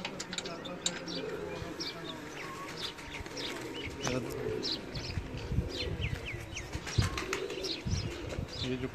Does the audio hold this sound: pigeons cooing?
yes